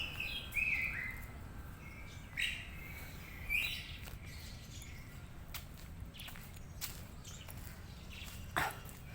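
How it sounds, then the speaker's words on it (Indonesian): Birds kept by local residents chirp in a shady, green spot in the middle of Surabaya city, giving faint, scattered tweets over a soft outdoor background with no talking. "banyak burung-burungnya"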